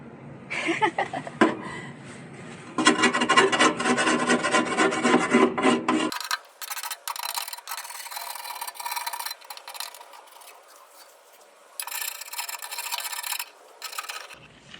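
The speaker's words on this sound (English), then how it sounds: "I was gonna scrape off the rest of this like residual gasket." A knife scrapes leftover gasket material off a commercial HVAC motor mount in harsh, rasping strokes: a short burst, then a long dense stretch, followed by lighter, choppier scraping with pauses.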